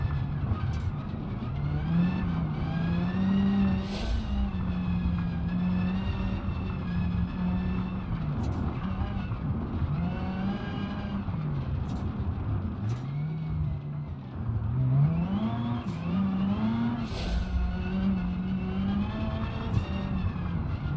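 A car driven in the BeamNG.drive game on East Coast USA roads, its engine humming steadily and rising and falling in pitch through gear changes and throttle shifts, continuous and close, with no talking over it.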